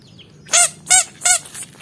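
Toy duck giving three short, bright honking quacks in an even rhythm, close and loud, with quiet background between each call.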